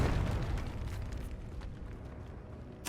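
Fiery explosion spell going off in the video game Hogwarts Legacy: a loud, broad blast that decays into a rumbling tail over a few seconds, ending with a sharp new burst.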